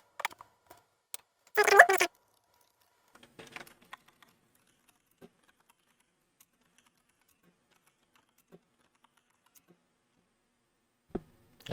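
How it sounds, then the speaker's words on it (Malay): Keys pressed on a mechanical keyboard, picked up by a USB condenser microphone in a quiet room, a short burst of crisp clicks followed by sparse isolated taps with long silences between. "Itu dekat keyboard mechanical aku."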